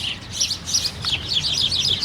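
Small birds chirp and tweet in quick, overlapping bursts, fairly close, over a faint low background rumble.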